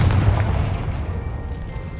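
The Confringo blasting spell goes off in the Hogwarts Legacy video game, a single loud booming blast at the start with a deep rumble that slowly fades away.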